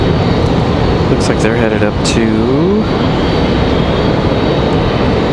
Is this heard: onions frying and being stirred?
no